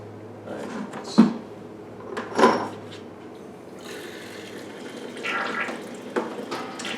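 Warm water runs from a tap into a sink while brewing a small batch of beer on a stove, a soft steady wash broken by a few brief clunks and splashes, with quiet indistinct voice in the background.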